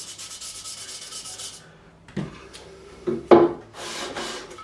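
Coarse 80-grit sandpaper rubbing along a bouzouki fretboard during re-fretting: a steady scratchy burst of strokes, a pause with a few short scrapes and knocks, then another run of sanding up close.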